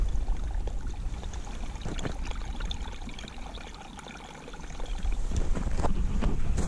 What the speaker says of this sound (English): you can hear the water running underneath here